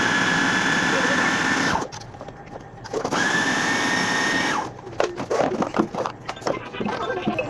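An electric chopper whirs steadily as it chops onion for seekh kabab mince, running in two long bursts with a brief pause, then clattering as it stops, with a voice faintly underneath.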